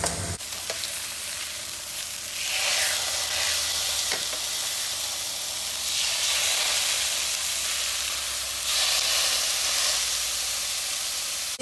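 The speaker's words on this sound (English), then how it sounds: "Make sure you sit the chop on the fat side like this so that you can sear it." Pork chop fat sears in a hot pan with no added oil, a loud steady sizzle that swells and hisses continuously, with a few clinks of a utensil near the start.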